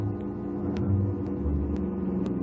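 A car approaching along a road, heard as a steady low engine rumble that holds at an even level without obvious build-up over a couple of seconds.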